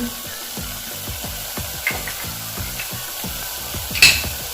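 Spices stirred into a sizzling tomato and okra masala in a pan, a steady close sizzle under rhythmic scraping stirs about twice a second, with a sharp clink near the end.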